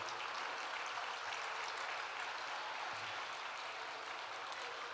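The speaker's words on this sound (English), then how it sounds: "Would you please rise and receive this round of applause?" Steady, continuous applause from a large crowd at an awards banquet, even and sustained throughout with no voices standing out.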